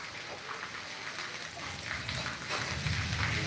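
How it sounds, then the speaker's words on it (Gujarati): Dense, steady hiss of heavy rain pouring down with wind in Morbi, loud and continuous, with no voices. "જો ભાઈ ધોધમાર વરસાદ ચાલુ છે"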